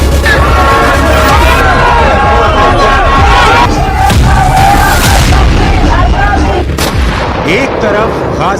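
Loud, continuous uproar of a large protest crowd in Israeli streets, dense roaring voices with sharp bangs and booms cutting through throughout.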